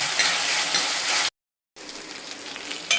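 Steady loud sizzling of onions and ginger-garlic paste frying in a pan, broken by a brief silent gap before the sizzle resumes slightly quieter.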